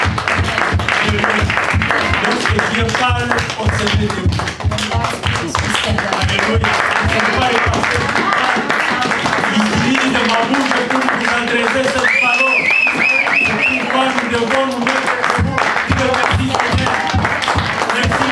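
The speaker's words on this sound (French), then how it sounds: "Mettez-vous debout et donnez une acclamation à la parole." A standing church congregation applauds and cheers in acclamation, loud continuous rhythmic clapping with shouted voices and speech layered over it throughout.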